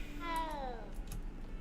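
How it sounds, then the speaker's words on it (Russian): Cat meowing in the Hogwarts Legacy video game, a single drawn-out meow with a falling pitch, fairly close over a low background hum and soft ambient music. "Ой, котик."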